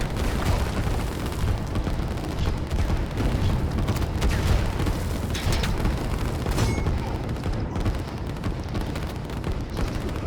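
Artillery fire rumbles in the strategy game Line War as dense, overlapping booms and blasts roll on continuously at a loud level, with no talking over them.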